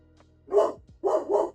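Grumpy dogs in the Minecraft video game give three short, close barks: one single bark, a brief pause, then a quick pair.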